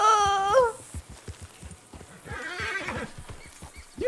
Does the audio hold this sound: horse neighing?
yes